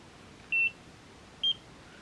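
Two short, clean electronic beeps from a Nira skincare laser device, each about a fifth of a second long and spaced roughly a second apart, fairly quiet over a soft background hiss.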